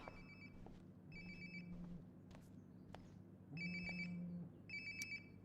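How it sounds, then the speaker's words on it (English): A phone rings nearby in the video game Life is Strange: Before the Storm, with repeated bursts of a bright electronic ringtone over a steady low background hum. "Sounds like my phone is definitely nearby."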